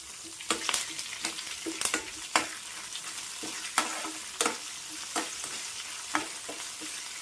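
Oil sizzles steadily with shallots and curry leaves frying for a tempering while a spoon scrapes and stirs in sharp, irregular clicks, close up with no talking.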